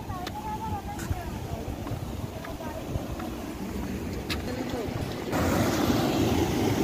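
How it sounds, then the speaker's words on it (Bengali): Water rushing and splashing between large rocks on a river at Belpahari, a steady broadband roar throughout that grows slightly louder near the end, with outdoor wind noise. "এখানে জলের আওয়াজটা শুনতে পাচ্ছেন তো?"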